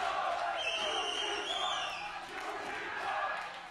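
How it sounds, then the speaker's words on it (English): An esports arena crowd chants and shouts in a rowdy, sustained roar with a rising, rhythmic swell, moderately distant and somewhat faint. "Crowd is getting rowdy."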